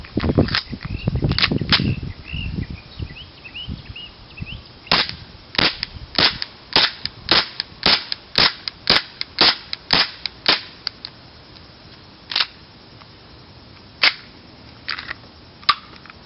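A Tokyo Marui FN 5-7 airsoft pistol running on duster gas fires 0.25 gram BBs outdoors in cool weather, about twenty sharp, close blowback cracks, some in quick bursts and others spaced apart.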